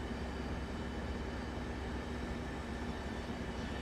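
A Caltrain MP36 locomotive in Train Sim World runs on the San Francisco to San Jose route, a steady low rumble of engine and rails that stays even and continuous with no voices.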